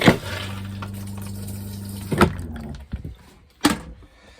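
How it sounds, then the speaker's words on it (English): Lever flush of the toilet in a 2015 Jayco 184BH travel trailer, a sustained pumping, humming rush for about two seconds followed by a few short clunks and a rattle, heard close up with no talking. "It flushes using this lever."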